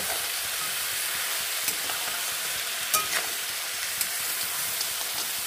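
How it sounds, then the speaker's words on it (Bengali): Turmeric, cumin and coriander powders, chili and tomato sauté together in a pan with a steady, even frying hiss, broken by a few faint stirring clicks. "সব একসঙ্গে দিয়ে আমি সুন্দর করে আমি কষিয়ে নেব।"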